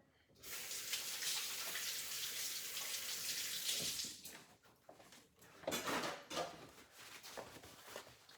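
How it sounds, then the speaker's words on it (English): Hands are rinsed under a running kitchen tap while lasagna is being made, a close steady hiss of water for about four seconds, then broken splashing and rubbing bursts as the flow is interrupted. "Wash my hands a little bit."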